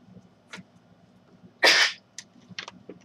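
One sharp sneeze bursts out loudly in a mostly quiet room, surrounded by faint background clicks and small noises.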